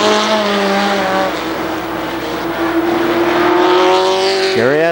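Race cars roar down the front straightaway of a short oval speedway in a 1995 race, engines loud and close, with steady high-pitched whines that bend sharply as a car sweeps past near the end.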